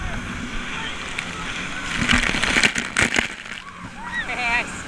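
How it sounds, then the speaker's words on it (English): Water splashes and sloshes around a jet ski on choppy water, with wind and engine noise beneath, while people talk and laugh close by. "I splashed you, and now you're wet."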